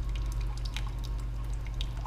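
Water is poured slowly over pour-over drip coffee grounds, a soft, steady trickle with faint drip taps over a low constant hum, close and quiet.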